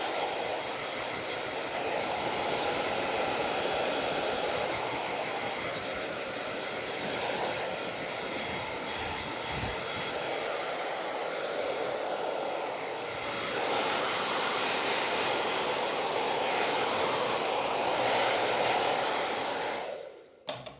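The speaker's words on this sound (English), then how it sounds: "We'll blow some of this hair off of them real quick." After a haircut and beard trim, a blower pushes loose hair off with a loud, continuous rush of air. It lasts about twenty seconds with slight swells, then cuts off abruptly at the end, and no one talks.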